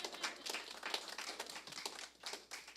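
A press-conference audience claps in a quiet, distant burst of steady, overlapping hand claps lasting the whole stretch, with no talking over it.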